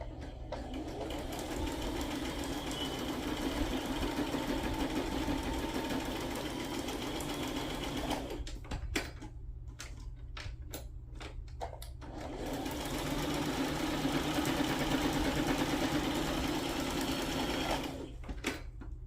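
A sewing machine stitches through a layered paper embellishment cluster, running in a loud, steady mechanical whir for about eight seconds, pausing briefly with a few clicks, then running again in a long sustained burst up close.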